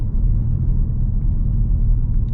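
The Toyota Tacoma Trailhunter pickup's engine drones low and steady as it climbs a small hill, a close continuous rumble from inside the cabin with no talking.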